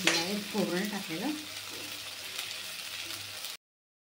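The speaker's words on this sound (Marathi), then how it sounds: "तेल सुटतं. आता आपल्याला छान फ्राय करायचं आहे." Ginger, garlic, onion, tomato and coconut masala with red chilli powder frying in oil in a pan for Maharashtrian tarri pohe, a soft steady sizzle with stirring scrapes near the start, close and moderately loud, no talk.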